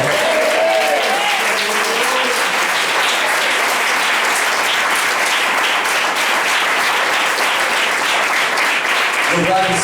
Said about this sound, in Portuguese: aplaudindo Ele bem forte nessa noite?